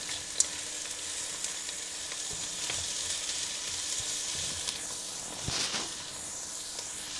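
Carrots and beets for borscht fry in a pan with a soft, even sizzle and a few light clicks of stirring, fairly quiet and without any voices.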